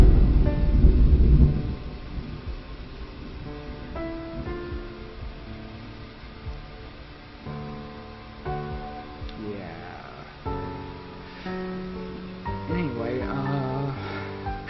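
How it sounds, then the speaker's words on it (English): Video game thunderstorm with rain: a heavy low thunder rumble at the start fades into a softer rainy backdrop, with speech throughout. "so it's like raining out, and lightning just struck."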